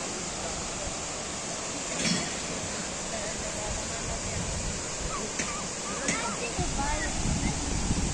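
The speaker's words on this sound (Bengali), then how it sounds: "ঝর্ণা এখন বন্ধ করে দিয়েছে পানি বন্ধ করে দিয়েছে পানি এখন কম কম পড়ে যাচ্ছে" An artificial waterfall with its flow cut back gives a steady, broad rushing wash of falling water throughout, with a few soft splashes and thuds on top.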